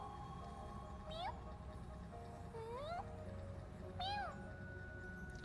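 An in-game cat gives three distinct, rising meows spaced a second or two apart over a steady background hum, sounding somewhat distant and muffled as if caged.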